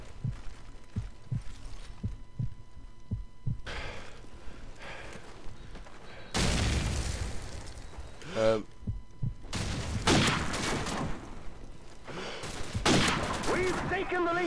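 Sniper rifle fire in a team deathmatch shooter: a steady run of soft thumping beats gives way to several loud, sharp blasts with echoing tails, each standing clearly above the background game noise.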